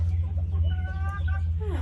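Backyard chickens by a nesting box, with a rooster among them, make a few short clucks and a rising call close by, over a loud low hum, with someone talking.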